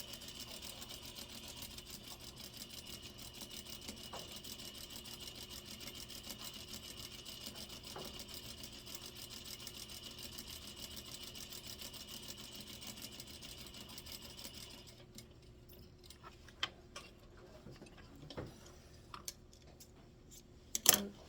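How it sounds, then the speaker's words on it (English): A sewing machine runs a steady quarter-inch seam along a shirt front placket, a continuous close whirring hum for about fifteen seconds that then stops, leaving a few faint handling clicks. "So I'm sewing 1/4 inch as straight as I possibly can because this is a selling point."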